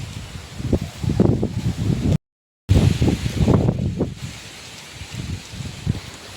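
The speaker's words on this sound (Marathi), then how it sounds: "आज वारा खूप जोरात आहे" Strong gusting wind through tree leaves in a Konkan village courtyard, loud rushing bursts of rustling that rise and fall, with a brief dropout midway.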